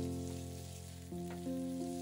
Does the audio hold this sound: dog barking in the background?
no